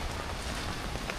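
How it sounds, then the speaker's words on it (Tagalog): Heavy rain pours in a dense, steady hiss without breaks, loud and close, with no voices. "Malakas ang ulan!"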